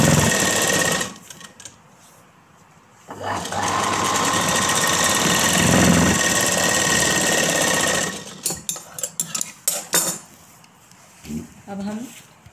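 A sewing machine runs in steady bursts as it stitches the edge of cloth for a plain kurti, with longer continuous runs separated by pauses and short stop-start passes near the end.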